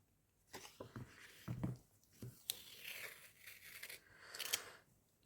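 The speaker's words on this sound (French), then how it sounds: "Je déchire mon papier." Scrapbooking paper tears in several quick rips and crinkles, close and fairly quiet, with brief pauses between the tearing bursts.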